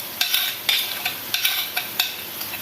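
Spinach pakoras sizzle in hot oil while a utensil stirs and scrapes the pan, giving a steady frying hiss broken by sharp, irregular clinks and scrapes close by.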